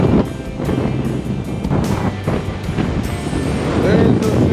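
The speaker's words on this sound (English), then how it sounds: "There's the 50-mile-an-hour gust." Strong wind gusting at a pay lake, buffeting the microphone with loud, continuous roaring rush and uneven bursts, with water lapping and faint voices underneath.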